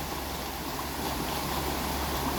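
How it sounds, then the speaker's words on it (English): River water rushing over rapids on exposed limestone bedrock during high wet-season water, a steady broadband rush with no talk. "we don't really see rapids too often at all. But in this case, we are."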